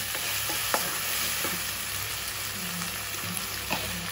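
Tomatoes being sautéed and stirred in a pan for goat trotter paya, a steady close sizzle with occasional spoon scrapes and clinks, no talking.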